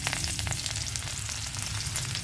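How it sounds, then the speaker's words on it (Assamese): Loud, continuous sizzling and crackling of cumin, dried chilli and chopped onion frying in hot oil, close up, with a low background hum. "মই জিৰা আৰু শুকান জলকীয়াটো ক'লা পৰাকৈ অলপ ভাজি ল'ম"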